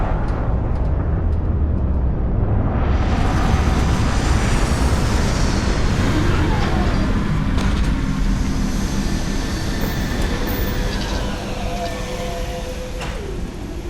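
Spaceship retro thrusters in Starfield fire during a landing, a loud, continuous roaring rumble that swells after a few seconds and holds steady, with faint mechanical tones layered over it.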